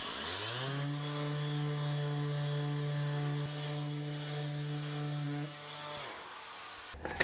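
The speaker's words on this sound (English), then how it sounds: "I think I'm going to start by just giving the edges a sand down." A power sander runs steadily against the edges of old wooden mirror frame pieces, giving a loud, continuous droning whine with strong harmonics for about six seconds before cutting off, followed by a brief knock.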